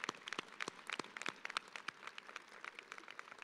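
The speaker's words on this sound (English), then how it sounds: "Let's give your family a round of applause." Applause from a university commencement audience for graduates' families, a scattered patter of distant, faint claps with no voices on top.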